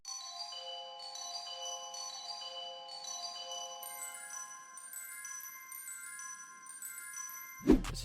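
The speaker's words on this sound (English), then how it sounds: "The next thing I added was this mallet from X-Band. It sounds like this." A mallet melody from the X-Band plugin in FL Studio, bright bell-like struck notes in a repeating pattern with a soft reverb tail, clean and alone, ending on a brief thump.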